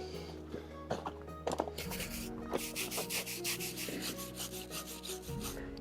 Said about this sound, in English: I'm going to go over to the anvil to finish brushing.